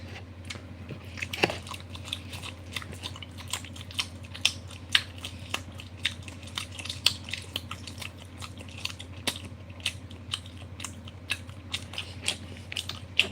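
Raw Aldi beef mince with 25% fat is chewed close to the microphone, giving a continuous run of wet, sticky clicks and squelches over a low steady background hum, with no talking.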